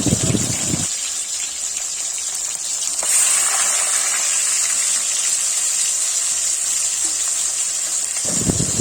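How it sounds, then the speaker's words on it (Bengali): Fish frying in hot oil in a wok, producing a steady, loud hissing sizzle that swells after the first few seconds and holds continuously, with brief louder bursts at the start and end. "কড়াইতে তেল দিয়ে তেলটা ভালো করে গরম হয়েছে মাছ দিয়ে দিয়েছি"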